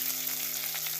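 Chillies and curry leaves frying in a pan, a brief, steady close sizzle alongside a low constant hum.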